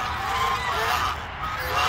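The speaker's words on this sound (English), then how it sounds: "Then we got the African geese." African geese honking in a large bird pasture, a run of nasal honks mixed with outdoor background noise, moderately close and fairly loud throughout.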